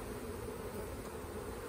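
Honey bees hum around an open hive during an inspection, a steady, dense buzzing that stays constant throughout, moderately close with no talking.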